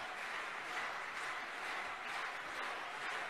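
Quiet, steady applause from an audience honouring French mayors at an anniversary gathering, a soft continuous wash of clapping heard from some distance without speech.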